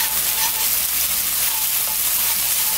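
Minced garlic and green onion stir-fry in a hot pan, a dense, loud, continuous sizzle with no breaks and no talking.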